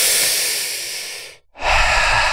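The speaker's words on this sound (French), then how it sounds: "Prenez une grande et profonde respiration" A person takes a deep breath during a French hypnosis relaxation session: a long, close airy exhale, a brief pause, then a full inhale, with no talking.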